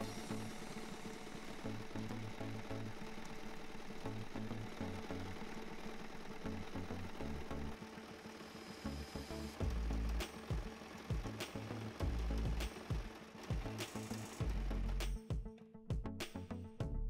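A sewing machine runs a straight seam on fabric cut from a men's shirt, a faint, steady mechanical whir with rhythmic stitching pulses that grows busier and more clattery toward the end.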